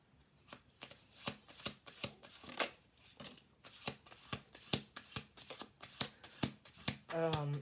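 Rapid riffling bursts of tarot cards being shuffled, repeated in quick rhythmic flicks up close, ending with a brief louder rustle.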